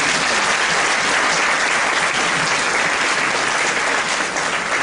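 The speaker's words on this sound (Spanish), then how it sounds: "Démosle un aplauso a nuestra presencia." Sustained audience applause fills a university lecture hall for the full span, dense and steady without letting up.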